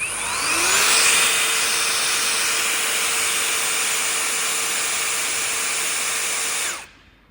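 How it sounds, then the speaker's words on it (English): A RIVERLAKE ETW electric torque wrench runs steadily and loudly for about seven seconds with a constant motor whine, then stops abruptly. There is no talk. "We press the start button. It will start working first. It will reach the target torque, and then it will turn by another 16 degrees."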